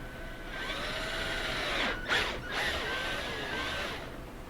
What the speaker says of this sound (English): So I'm going to go ahead and just drill the 5/16 hole.